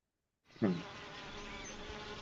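Honey bees buzz in a steady, continuous drone that begins after a brief silence, with a slightly louder swell at the onset and no voices.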